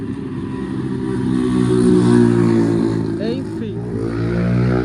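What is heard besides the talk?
motorcycle engines passing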